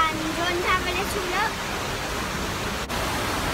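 Water from a waterfall inside a cave rushes in a steady, broad roar that fills the whole clip. A voice sounds briefly near the start.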